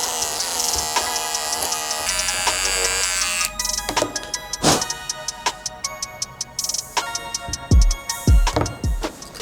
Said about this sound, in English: let's go ahead and shave off the little loose threads